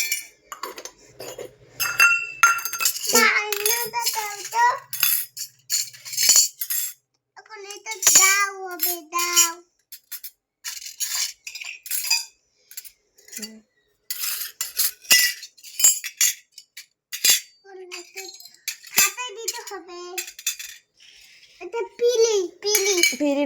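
Small plastic toy kitchen dishes and utensils clink and clatter in scattered bursts as they are set out in a mini play kitchen, with a child and an adult talking throughout.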